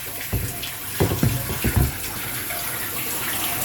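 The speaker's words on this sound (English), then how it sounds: "Spotless water today, just filling up the tank." Water pours into the baffled tank of a window-cleaning Vivaro van, a steady close rushing fill with a few louder splashy surges early on, no voices.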